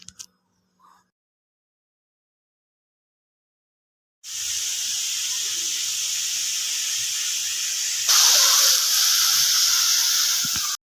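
Ridge gourd curry sizzles and bubbles in hot oil, a soft hiss starting after several seconds of near silence and growing louder toward the end.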